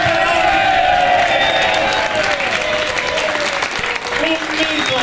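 A crowd at a club's season presentation in Riccione applauds the club president, loud continuous clapping with some cheering, while voices carry over it.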